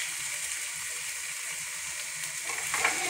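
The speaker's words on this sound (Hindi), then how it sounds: "हम लोगों ने इसको फ्राई करना है इस तरह से जब तक कि गोश्त का कलर चेंज नहीं हो जाता" Chicken pieces frying in a pan in a desi-style chicken and kadu dish, a steady close sizzle with a brief stirring scrape near the end.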